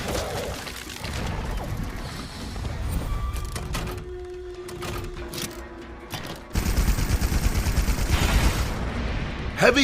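Heavy bowgun gunfire in Monster Hunter World: Iceborne, rapid bursts of shots and booming impacts layered with game effects, growing denser and louder toward the end.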